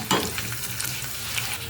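Dry red chillies frying in hot oil as a tempering for drumstick sambar, a steady close sizzle with a few stirring scrapes and a brief louder crackle near the start, with no talking.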